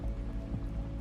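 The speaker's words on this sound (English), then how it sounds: "Let that steady, soft rain fall through your mind now" Soft, steady rain falls in a continuous gentle patter with no pauses, heard alone at a quiet, even level.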